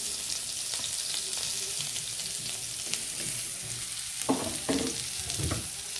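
Garlic and onion fry in hot oil with a loud, continuous sizzle close up, while a few stirring scrapes and clinks of a utensil in the pan come toward the end.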